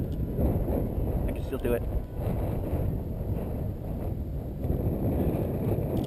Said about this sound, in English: Wind's kicking up.